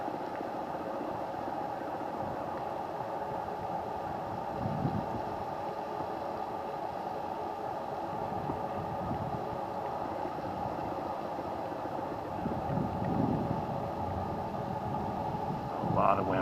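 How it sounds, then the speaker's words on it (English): Outdoor traffic noise mixed with gusting wind, a faint steady rumble of passing vehicles with occasional stronger swells as gusts hit. "A lot of traffic noise and gusting wind noises."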